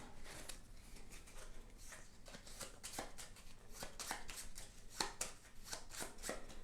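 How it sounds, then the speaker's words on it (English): Playing cards are shuffled and riffled close up, a soft rapid flutter of repeated snaps, fairly quiet with no voices. "for the 3rd round, we're going to shuffle the AI cards."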